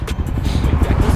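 A Suzuki Thunder 125 supermoto fitted with a 400cc bore-up engine idling close by, a loud, rough, pulsing engine burble over about a second.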